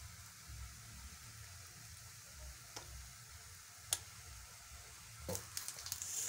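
Purple pancake batter frying in a pan, a faint soft sizzle with a few scattered clicks and taps near the end, quiet and without talk.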